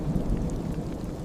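Steady rain falls with a low thunder rumble underneath, a dense continuous wash of sound with no break over the brief stretch.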